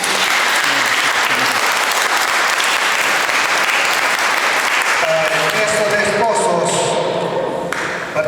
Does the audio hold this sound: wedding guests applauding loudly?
yes